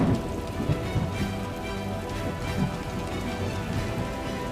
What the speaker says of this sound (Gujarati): ચોમાસાની મુશળધાર શરૂઆત થઈ છે